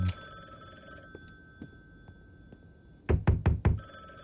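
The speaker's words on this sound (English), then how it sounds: "Is that my phone?" A telephone rings in the video game The Bookwalker: Thief of Tales, a thin steady electronic tone followed by a loud burst of four rapid, clattering ring pulses near the end.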